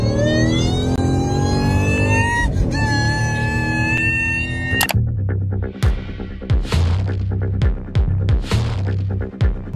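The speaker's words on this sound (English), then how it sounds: "Dude, I'm running on one cylinder, let's go!" A BMW 335i engine running rough on one cylinder, loud and close: a steady droning tone first, then irregular throbbing pulses with sharp stumbling bursts.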